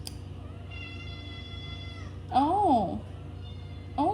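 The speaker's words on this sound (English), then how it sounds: "He's my little orange cat." An orange cat meows twice close by, first in a drawn-out wavering cry and then in a short clipped one, over a steady low hum, and a person speaks briefly.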